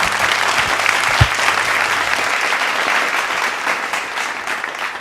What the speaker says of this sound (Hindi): मैं चाहूँगी ज़ोरदार तालियों के साथ उनका स्वागत करें।